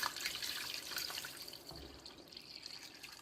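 Water pours into a cooking pot holding chicken and vegetables, a soft steady trickling and splashing at close range that thins out toward the end.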